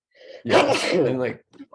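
One loud, sharp sneeze bursts out between bits of casual conversation, with people talking just before and after it.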